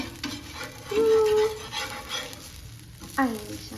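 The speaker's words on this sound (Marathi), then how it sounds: "कसलं बारी खरपूस भाजलं आता मी घेते सगळं उलटून" Poha cutlets sizzle and fry in a pan, a steady crackling hiss with brief scraping and clinking of a utensil as they are turned.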